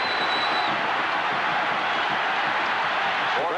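A packed Nebraska football stadium crowd roars during the 1981 Florida State at Nebraska game, a loud, unbroken wall of cheering that holds at the same level for the whole stretch.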